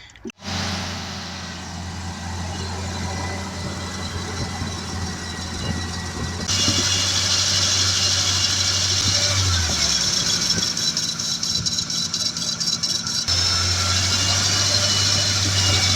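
A Ford Ranger pickup engine idles steadily after a thermostat replacement, a low constant hum that brightens and grows louder partway through, with a faint voice at times.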